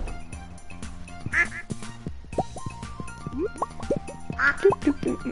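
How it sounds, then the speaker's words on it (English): Four farm ducks in Stardew Valley quack repeatedly in short nasal calls, scattered irregularly over light game music and ambient sounds, close and clear with no talk. "So all four ducks are in here."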